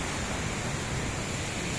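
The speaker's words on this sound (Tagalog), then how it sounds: "Dito tayo ngayon sa tabing dagat" Continuous rushing wash of ocean surf along a beach shoreline, a dense even roar that holds steady throughout with no talking.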